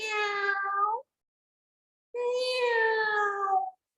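A cat meows twice in a told story, two drawn-out, clear mews separated by a second of silence, close and fairly loud with no talk over them.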